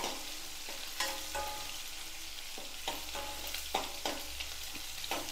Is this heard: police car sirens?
no